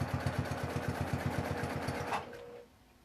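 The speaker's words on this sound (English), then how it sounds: "I'm going to start slow at first because I have not quilted on this machine in a little while." A sewing machine quilting fabric runs in a fast, steady stitching rhythm close by, starting slow as a quilt is worked, then stops abruptly near the end leaving a brief low hum.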